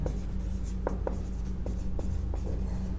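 Pen writing on paper during a class 10 maths lesson, a steady faint scratching broken by several short strokes and taps, close and alone with a low background hum.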